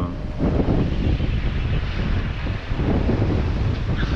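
Strong, sudden wind at sea on a sailboat roars as loud, continuous gusting buffeting close to the microphone, with waves washing underneath.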